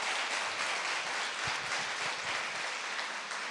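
An audience at a church gathering applauds its collaborators in a dense, steady wash of clapping, moderately loud and sustained throughout.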